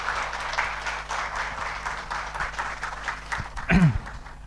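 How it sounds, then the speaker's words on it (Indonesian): Congregation applauding at a pastor ordination service in a church, a steady wash of clapping hands that fills the room at moderate distance, with a brief louder thump near the end. "Kita berikan aplaus."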